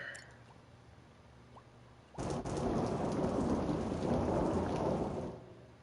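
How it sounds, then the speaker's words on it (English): Thunder and rain sound effect previewed in the Dreams game editor: a quiet low rumble, then a loud crack at about two seconds giving way to a sustained roar of heavy rain and rolling thunder that fades at the end. "find a sound effect of like the strike of thunder playing"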